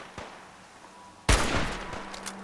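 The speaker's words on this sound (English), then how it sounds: "Just getting pissy because I'm getting shot at" Gunfire in Fallout 3's Point Lookout, with a faint early pop and then a sudden loud burst of shots followed by a rattling volley that tails off.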